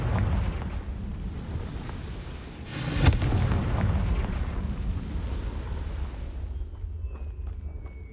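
Confringo fire explosion spell cast in the video game Hogwarts Legacy, one sharp loud blast about three seconds in, rising out of a steady rumbling roar of battle noise that fades near the end.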